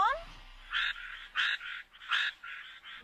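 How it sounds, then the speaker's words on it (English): A frog croaks repeatedly in a garden frog bog habitat, giving a series of rasping, pulsed calls close by in an otherwise quiet setting. "Our frog bog is going to be habitat for all sorts of frogs."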